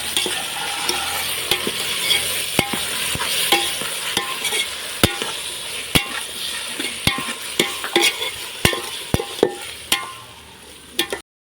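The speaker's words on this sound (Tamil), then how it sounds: "அடுத்து நம்ம தக்காளியை போட்டு கிண்டணும்." Tomatoes stirred in a frying pan after onions have browned: a steady sizzle with repeated sharp scrapes and taps of the spoon against the pan, close and fairly loud, no talking.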